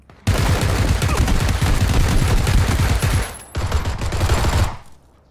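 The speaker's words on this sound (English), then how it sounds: "they're shooting at you" Gunfire in PUBG rattles almost without a break, a dense and loud volley that drops off briefly, resumes, then cuts out near the end.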